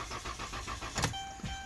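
A car engine cranks over without starting, the starter whirring in a steady rhythmic churn for about a second before a brief louder burst, then fading, heard fairly close.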